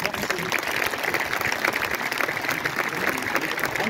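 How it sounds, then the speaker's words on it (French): A crowd at an award ceremony for a national young-farmers competition claps continuously, a moderately loud, even rattle of many hands throughout. "on peut vous applaudir, mesdemoiselles"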